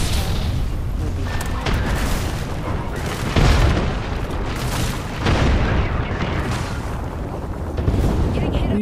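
Repeated gunfire and booming blasts from Apex Legends game audio pound on and off, with a few heavier bursts standing out, while a voice talks over it.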